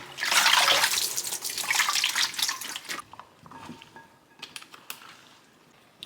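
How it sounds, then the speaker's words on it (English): Salted radish rinsed under a running tap: a steady broadband splash of water for about three seconds, then the flow stops and scattered drips and wet handling sounds follow, with no talking. "Now I'm going to rinse off all that extra salt from the radish."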